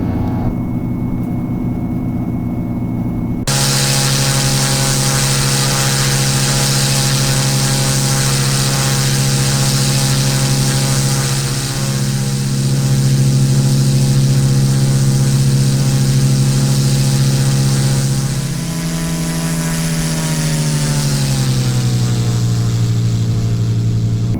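Carenado SR22 GTSX Turbo engine in X-Plane 11 roaring steadily, a loud droning propeller tone that jumps up after a few seconds, holds, then sweeps down in pitch near the end.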